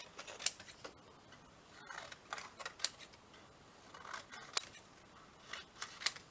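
Scissors snip paper craft embellishments for a shabby blue folder, giving a handful of quiet, crisp close-up cuts at irregular intervals over a faint room background.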